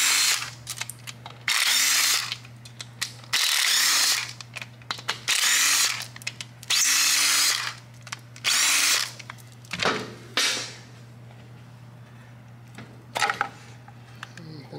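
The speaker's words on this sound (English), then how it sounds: "Then I'm gonna break loose cam plate bolts." Power tool, likely an impact driver, breaking loose the cam plate bolts on a 2007–2016 Harley-Davidson Touring engine during a cam install teardown, firing in repeated loud, close bursts of rattling hammering separated by pauses over a steady low hum.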